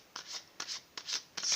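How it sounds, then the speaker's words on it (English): A large deck of Ancient Egyptian Oracle cards is shuffled close up, four quick papery riffling bursts evenly spaced, soft and crisp with no talking. "I'm just shuffling the Ancient Egyptian Oracle."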